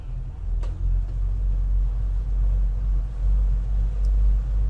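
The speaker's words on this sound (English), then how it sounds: "So we'll just gradually build her up to speed here." A boat engine throttling up gradually, a steady low rumbling drone with slight swells in loudness, close and continuous with no talk over it.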